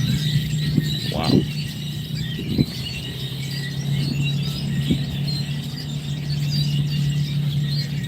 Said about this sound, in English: I feel like those birds are going to attack me, man.